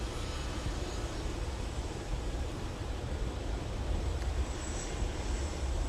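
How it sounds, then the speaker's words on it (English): A Boeing 757 airliner taxiing toward the runway at a winter airport, heard as a steady, broad jet engine rumble and hiss that holds level throughout, with no talk over it. "this is quite the motivated taxi for this 757"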